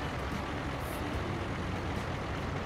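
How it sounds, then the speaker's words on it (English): Trucks rolling by in American Truck Simulator, a loud, continuous broadband engine and road roar with a brief hiss like an air brake, steady throughout with no talking. "all those cars sound like trucks, because, oh yeah, they are trucks."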